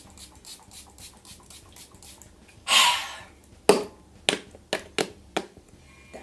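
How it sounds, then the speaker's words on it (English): A short spritz of facial toner spray hisses once, then a quick second burst, followed by a series of light pats or taps on the face. "take the toner and spray it all over our face."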